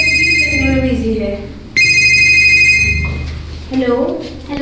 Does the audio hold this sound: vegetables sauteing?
no